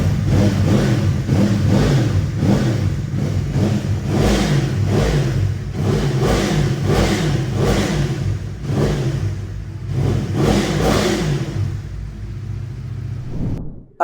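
A Yamaha R1 sport motorcycle, a 2011 model, is revved repeatedly in short blips that rise and fall in a steady rhythm, loud and close, before cutting off near the end.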